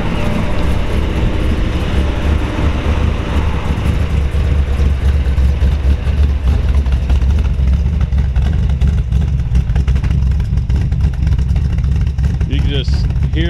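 A 1966 Chevrolet Chevelle Malibu with a small-block 434 V8 runs with a deep, steady rumble, loud and close, while a person talks over it.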